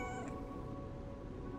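A cat meows in the video game Lies of P over a steady background hum of music or game audio, its short call standing out near the start before fading into the continuous backdrop.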